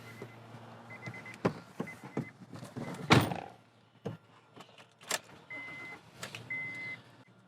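An Acura MDX door shuts with one solid, loud thunk in the middle, surrounded by quieter clicks, rustles and small mechanical knocks inside the car.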